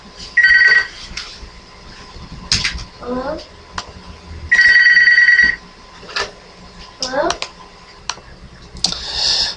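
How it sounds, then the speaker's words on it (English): A telephone rings in two short bursts of repeated electronic trills, clear and fairly loud, with someone talking in between them. "Sorry about that little phone ring there."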